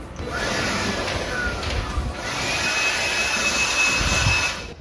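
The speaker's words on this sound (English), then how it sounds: "that is the workshop blower. Model number on that one is DCE100" A DeWalt DCE100 cordless workshop blower runs continuously with a loud, steady airy whoosh and a high whine, close by throughout with no talking.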